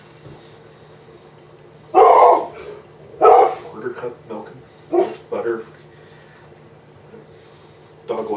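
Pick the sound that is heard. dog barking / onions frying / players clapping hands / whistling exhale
dog barking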